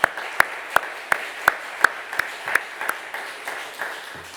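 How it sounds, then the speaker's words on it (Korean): A church congregation at a Sunday service applauds its Sunday school teachers with steady, rhythmic claps that land roughly three times a second over a soft bed of scattered handclaps, easing off slightly toward the end. "정말 박수와 칭찬받기에 마땅한 우리 선생님들께 뜨거운 박수 격려해 주셨으면 좋겠어요."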